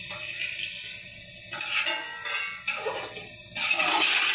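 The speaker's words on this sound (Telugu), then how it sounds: "6 గ్లాసులు నీళ్ళు పోస్తుంది" Six glasses of water are poured into a pot of rice for chicken biryani, arriving as a steady splashing stream in several bursts, nearby and fairly loud, with no talking.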